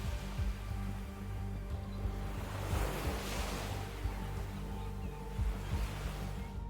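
Surf breaking along a rocky limestone coast of Curacao, a steady wash of ocean waves with a swelling surge midway, heard near and continuous with some wind noise.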